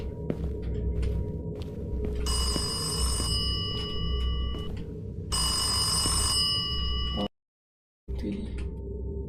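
An old-style telephone bell rings in the video game Alexa over a low droning background, in two long bursts, then stops abruptly before a brief third ring begins.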